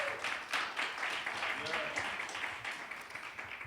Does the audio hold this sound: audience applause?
yes